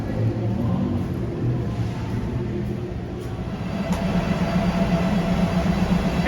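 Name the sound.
train arriving at station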